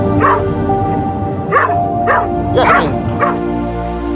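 Trainee assistance dogs visiting a school give several sharp, close barks and yips in quick succession over a steady background hum.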